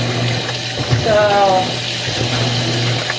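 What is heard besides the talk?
washing machine filling with water on quick wash cycle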